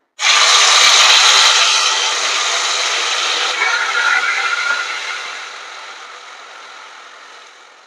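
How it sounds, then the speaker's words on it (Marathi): Ground masala paste for Vidarbha-style green chilli bhaji hits hot tempering with a loud, sharp sizzle that slowly settles into a softer, steady hiss as it fries. "तर इथे वाटण मी आता टाकून घेते."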